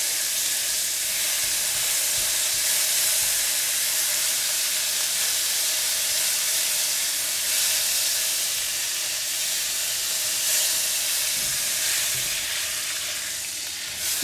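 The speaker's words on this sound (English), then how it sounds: "I'm going to use the spatula to break it into smaller pieces while frying it." Salted fish sizzles hard in a hot frying pan, a steady loud hiss and spatter while a spatula breaks it into smaller pieces, with faint scraping knocks beneath the frying.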